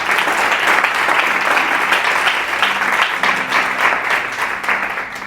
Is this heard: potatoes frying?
no